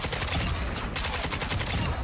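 Rapid automatic gunfire from an AK-74u in the video game Modern Warfare 2, a fast, loud, continuous burst of shots filling the whole moment with no talking over it.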